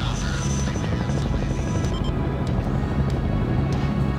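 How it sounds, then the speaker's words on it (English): A helicopter in the video game Nightmare House 2 drones loudly and continuously with a steady rotor chop and engine whine, filling the whole clip close up. "This is chopper."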